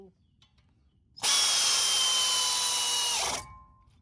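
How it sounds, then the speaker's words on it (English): An air ratchet drives a brake bolt back in on a 2014 Ford F-250 during a front brake job. It makes one loud, steady whir lasting a little over two seconds, with quiet before and after and no talking. "If it jerks the air ratchet out of your hand, you know you're right at torque spec"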